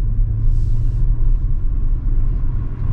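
A 2020 Audi RS7 sits in comfort mode and drive, its engine reduced to a low, steady rumble with a soft, even hum and no revs or bursts throughout.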